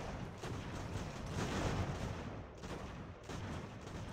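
Cannon fire grape shot in a battle from Ultimate General: American Revolution, a strategy game set in the 1777 campaign, with a dense, continuous roar of gunfire and blasts that barely lets up.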